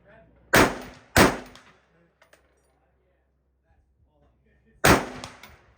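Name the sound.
gunshot fired at a shooting range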